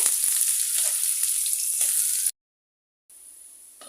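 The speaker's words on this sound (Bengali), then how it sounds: "পেঁয়াজ কুচি এখানে আমি কোয়াটার কাপ দিয়েছি লাল করে ভেজে নিব" Chopped onion and garlic fry in a pan for a cabbage bhaji, a steady close sizzle that cuts out abruptly to silence, then resumes more quietly.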